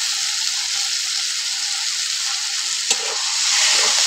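Chopped tomato sizzles and fries with okra in a pan for a Bengali-style bhindi curry, a steady bright hiss throughout with one brief sharp clink near the end.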